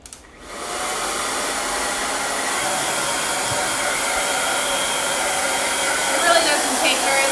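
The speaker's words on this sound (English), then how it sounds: "Turn it around for a second while I blow dry it." A hair dryer starts up and blows steadily as it dries chalk paste, a loud, close, continuous rushing whoosh that holds an even level throughout.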